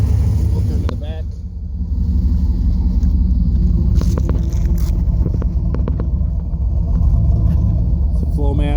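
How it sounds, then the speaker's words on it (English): 1988 Pontiac GTA with a 5.7 TPI V8 idling through a Flowmaster custom exhaust, a deep steady rumble running throughout, close and loud, with a person talking over it. "It's a Flowmaster. Custom exhaust."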